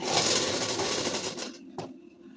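A sewing machine stitching a ladies suit gives a short, dense mechanical whirr that stops abruptly, followed by a single sharp click and quiet.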